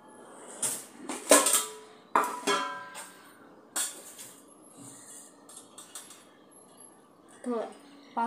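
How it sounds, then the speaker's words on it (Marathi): Breakfast ingredients, including coriander and curry leaves, are mashed in a pan. Irregular scraping and clinking of a utensil against metal come in bursts, with quieter stretches in between. "हे सर्व आपण याच्यामध्ये मॅश करून घेऊ।"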